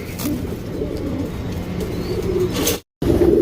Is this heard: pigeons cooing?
yes